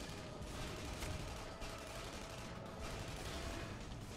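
Rapid gunfire from the game Tribes Ascend crackles steadily over a dense, noisy background, with bursts of shots running throughout.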